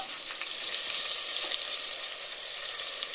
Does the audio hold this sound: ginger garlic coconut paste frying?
yes